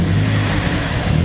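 A 2005 Chevy Cobalt engine runs on starting fluid, giving a loud, rough, steady idle rumble close by for about a second.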